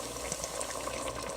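A cup of water pours into a simmering shrimp stew with potatoes, giving a continuous close splashing and bubbling rush that lasts the whole moment without any talking.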